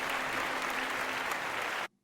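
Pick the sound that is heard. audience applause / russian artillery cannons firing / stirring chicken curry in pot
audience applause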